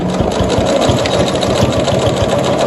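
Up close, a sewing machine stitches plastic mesh canvas for a pouch, running as a continuous rapid mechanical chatter with a steady rhythmic pulse throughout.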